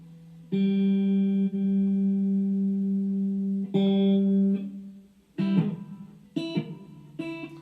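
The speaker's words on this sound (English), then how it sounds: "So now we got reverb, delay, and chorus in there." Electric guitar through a Blackstar ID Core 10 V2 amp with reverb, delay and chorus: long sustained notes ringing out, then shorter plucked notes with lingering reverb and echo tails.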